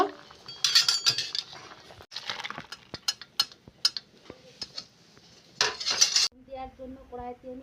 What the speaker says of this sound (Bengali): এখন আবার নেড়ে নেব নেড়ে এক মিনিট জাল করে নেব